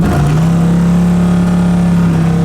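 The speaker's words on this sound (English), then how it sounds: "The exhaust is cool if you like a loud exhaust, and it's a full exhaust with mufflers." A 1976 Pontiac Trans Am with a full exhaust and mufflers revs loud and throaty, holding a steady deep exhaust drone, close by, with no talking.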